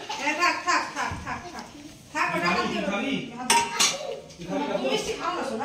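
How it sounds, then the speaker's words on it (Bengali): Dishes and cutlery clinking as payesh, a sweet rice pudding offered in a home puja, is poured into a bowl, with continuous speech over it and a voice nearby. "তাই ভগবানকে নিবেদন করা পায়েসটা এতে ঢেলে নিলাম"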